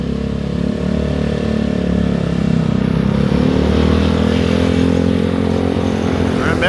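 A group of motorcycles on a long trip rides past fast, engines droning loud and close in a steady rumble that swells midway, with no talking.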